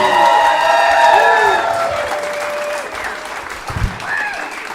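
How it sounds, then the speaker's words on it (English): Audience applause and light cheering at a comedy show welcoming a comedian to the stage, a warm burst of clapping that tapers off, with a voice talking over it. "Give him a round of applause"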